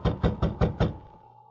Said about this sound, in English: He rapped on the door.